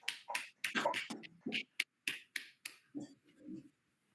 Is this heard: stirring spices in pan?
no